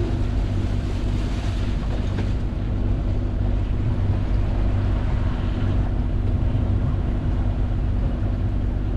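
A sailboat sails under a code zero sail off the coast of Senegal between Dakar and Saly, with constant wind buffeting and the rush of waves along the hull.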